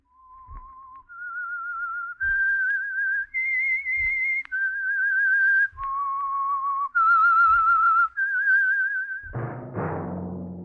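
A whistled melody serving as the opening signal of the Signal Oil radio program The Whistler, a clear solo tune of about nine sustained notes stepping up and down, ending in a sudden burst of orchestral music.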